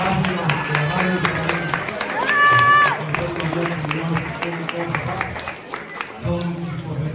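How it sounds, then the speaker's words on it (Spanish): An audience at a Mexican night show claps and cheers, with applause mixing with music and a crowd murmur that rises midway, then fades. "gracias por apoyarnos con un aplauso"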